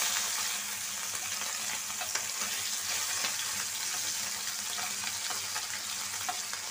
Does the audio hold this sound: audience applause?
no